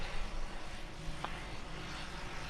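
A light aircraft's propeller engine drones in level flight at 2,000 feet, a steady, close cabin hum with no voices.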